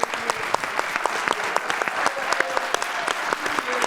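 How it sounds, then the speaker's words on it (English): Audience applause at a symposium, a room of people clapping with distinct individual claps standing out in an uneven rhythm, steady and fairly close, no talk on top. "we gotta clap it up for all our legacy people in the room"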